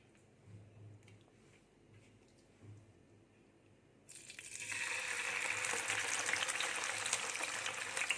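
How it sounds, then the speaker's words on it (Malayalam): Mackerel coated in bird's eye chilli paste goes into hot coconut oil in a pan. After a quiet start, a loud, dense sizzle bursts in midway and holds steady to the end. "നമുക്കിനി ഇത് വറുത്തെടുക്കാം."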